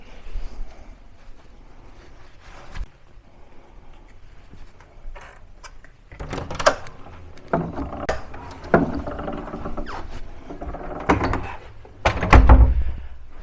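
Hotel room door at the Britannia Coventry Hotel, heard as several thunks and clunks from the handle and latch, with footsteps and rustling as the door is opened.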